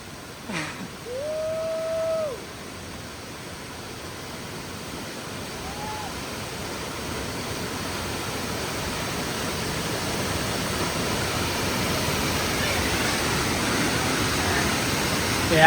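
A hidden waterfall in Big Sur pours with a steady, broad rushing roar that builds slightly louder over time, with a brief vocal sound near the start.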